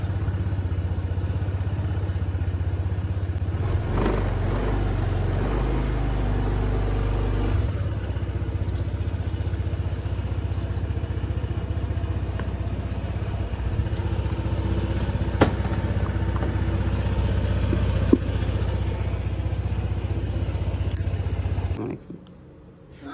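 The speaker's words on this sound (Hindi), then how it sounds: "अभी मैं थोड़ा बाइक स्टार्ट करता हूँ।" A motorbike engine idles steadily close by for about twenty seconds, a constant low throbbing hum with brief rattles, then cuts off near the end.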